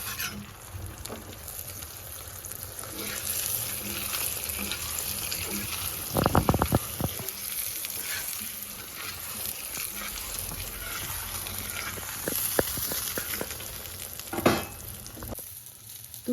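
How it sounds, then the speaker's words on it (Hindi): Keema paratha fries in olive oil on a hot tawa, a steady soft sizzle with occasional sharp crackles and pops and light handling knocks. "अब इसमें डालूंगी मैं ऑलिव ऑयल, और पराठे को हम धीरे धीरे सेकेंगे"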